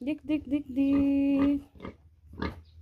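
A large pet pig grunts and oinks in a short run of bursts near the start, with a held tonal call, while people talk over and after it.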